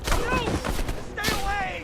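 Dense, rapid gunfire in the video game Call of Duty: Black Ops Cold War, loud and close, with shouting voices over the shots.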